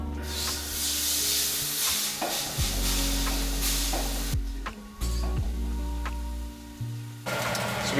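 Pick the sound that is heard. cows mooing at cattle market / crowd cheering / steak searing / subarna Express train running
steak searing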